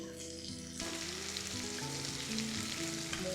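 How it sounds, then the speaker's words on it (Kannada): Turmeric powder and greens sizzle in a hot pan, a soft frying hiss that swells as more goes in, with light stirring scrapes close by. "ಸೊಪ್ಪು ಸ್ವಲ್ಪ ಚೆನ್ನಾಗಿ ಫ್ರೈ ಆಗಬೇಕಲ್ವ"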